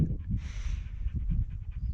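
Dutch the dog pants close by on a hike, quick soft breathy huffs in a steady rhythm at low volume with a faint whistle of air.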